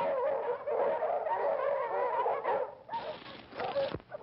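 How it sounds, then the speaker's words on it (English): Tracking hounds on a trail bay and yelp in an outdoor Western scene, a loud, close, continuous chorus of howling and barking that breaks off briefly near the end. "Those are hounds. They picked up our trail."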